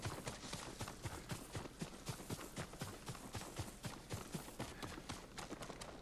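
Horse hooves clip-clop at a brisk, regular gait in the video game Ghost of Tsushima, a steady stream of sharp close strikes that stays fairly faint and has no talking over it.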